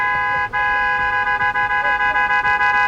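A red truck's horn honks repeatedly in steady short toots, loud and near over traffic.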